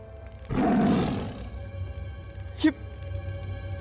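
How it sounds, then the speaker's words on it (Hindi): A tiger gives a single loud, near roar lasting about a second, followed by quieter ambience and a brief sharp sound. "ये तो बाघ है।"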